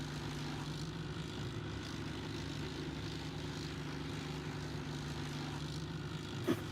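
Six choppers fly in a video game battle, giving a steady low droning rotor and engine rumble that holds at even loudness throughout, distant-sounding and unbroken, with a brief thump near the end.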